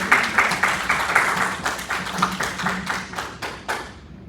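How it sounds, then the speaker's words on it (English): Audience applause at a local anesthesia facelift seminar, dense steady clapping from a crowd for a welcomed speaker, sustained throughout and tapering slightly at the end. "please give a big round of applause to Dr. Rich Castellano"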